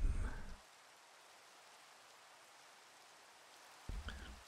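Rain falling in Minecraft gives a soft, even hiss that goes on without a break, with a few brief, louder bumps at the start and end.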